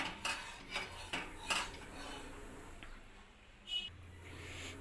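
A ladle clinks and scrapes against a pan while urad dal roasts for Telugu minapa sunnundalu, a few sharp metallic taps and stirring scrapes over a quiet kitchen background, close and fairly soft.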